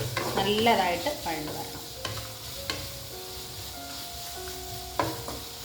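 Sliced onions and green chillies sautéing in hot oil give off a soft, steady sizzle, with a few clinks and scrapes of a stirring spoon against the pan.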